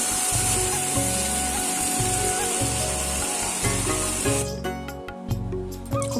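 Ginger garlic paste, tomato and onion fry hard in hot oil, giving a loud, steady, close sizzle with low rumbling. The sizzle thins and crackles unevenly toward the end, and nobody speaks.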